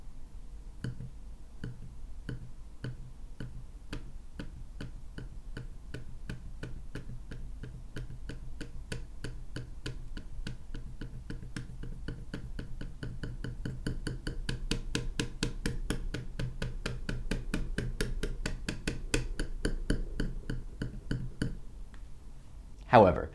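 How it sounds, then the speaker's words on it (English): Logitech Casa Pop-Up Desk touchpad clicked over and over in a steady, fast rhythm, each physical click loud, sharp and hollow against the plastic beneath, close up with no one talking. "the sound of the physical click is louder than I'd like"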